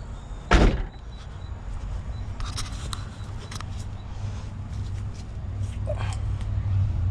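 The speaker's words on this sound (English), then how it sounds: "I've learned to just open the door." A car door on a 2G 420a turbo car is pushed open with one loud clunk near the start, then a steady low rumble and a few faint clicks continue.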